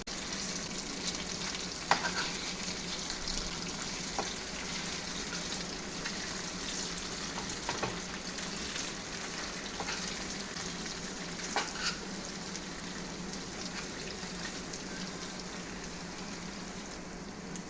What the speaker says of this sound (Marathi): झाकण लावून मीडियम गॅसवरती आधी एक साईड फ्राय झाली की आपण दुसरी साईड फ्राय करून घेऊया